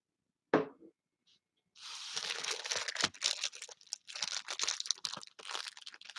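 Retro 1980s Fleer baseball card packs being torn open: a sharp initial snap, a brief pause, then a long stretch of close crinkling and ripping wrapper noise in uneven bursts.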